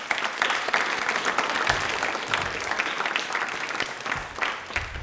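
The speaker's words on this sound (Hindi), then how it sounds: "प्लीज एक बार तालियां जोरदार हो जाए" Steady, energetic applause from a studio audience on a televised general-knowledge quiz show, a dense wash of clapping held at even loudness for several seconds.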